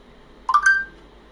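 A short electronic phone alert rings out in quiet during a Madden 25 gaming session, a brief two-part chime of clear tones lasting about a third of a second, with no talking over it.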